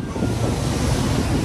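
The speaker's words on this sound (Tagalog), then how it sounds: "Ang lakas ng hangin." Strong, cold wind blasts across the microphone outdoors in Canada near a bus stop, a loud, continuous buffeting roar with no voices.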